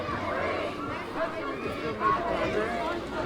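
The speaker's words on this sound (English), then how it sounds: "This crowd is massive." A large street protest crowd chatters in a steady, dense babble, with overlapping voices near and far and no single speaker standing out.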